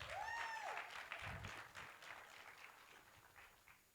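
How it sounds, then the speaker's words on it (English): Audience applause at a national youth symposium on public debt in Zambia, a broad wash of clapping that is loudest at the start and gradually thins out, with a brief whistle-like tone near the beginning. "let's give him another round of applause"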